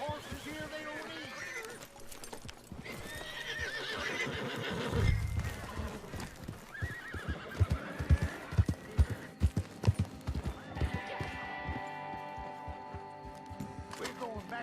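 Horses in the Red Dead Online video game whinny and neigh repeatedly, with clip-clopping hooves and game music underneath, the calls rising and falling over several seconds.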